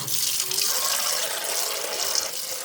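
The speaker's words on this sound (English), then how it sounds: "So here, just gonna wash it with warm water." Warm tap water runs steadily into a sink as a coffee machine's waste container is rinsed, a continuous close splashing hiss.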